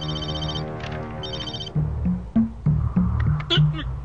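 A telephone rings with bright repeated electronic trills in two bursts, followed by a short stretch of tonal music in a Telugu action drama film scene.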